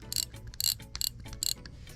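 A Daiwa Emeraldas MX spinning reel for squid fishing cranks in a few quick bursts, giving close, crisp mechanical ratcheting and whirring with short pauses between turns.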